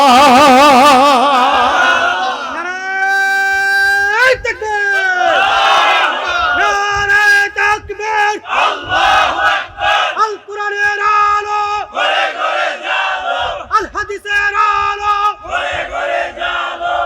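A large crowd chants and shouts slogans in loud, rhythmic unison, with bursts of massed voices rising and falling in repeated call-and-response phrases, close and dense throughout.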